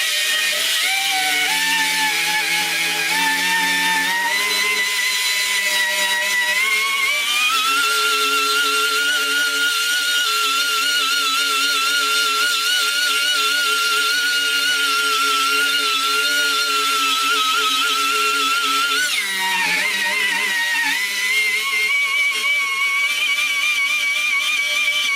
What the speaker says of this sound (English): we need to remove and surface the inside of the tire where the hole is